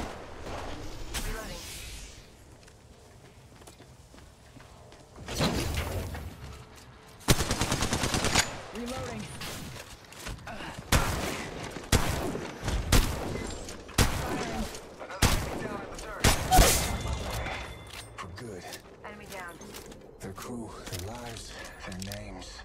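Automatic gunfire from Apex Legends Mobile, with bursts of rapid shots and loud volleys between quieter stretches, under game voice callouts.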